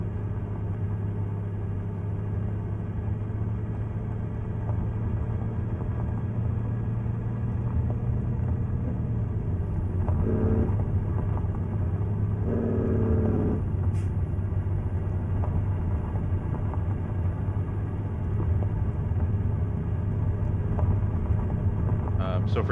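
A Hayes Clipper logging truck on logging roads in American Truck Simulator hums with a steady, low engine drone that shifts pitch partway through, with brief hissing bursts. Someone talks over it throughout.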